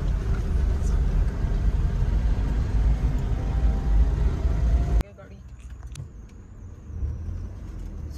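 A car held in first gear on a rough, bad road, its engine and road noise rumbling loudly, then dropping abruptly to a quieter cabin hum while someone talks over it.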